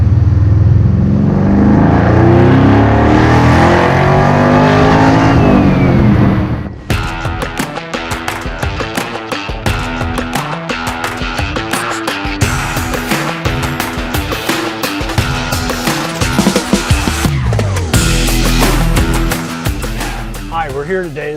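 A 1962 Corvette with an LS engine running, beginning with a loud rev that builds and sweeps up before cutting off, then someone talking over a rumbling background.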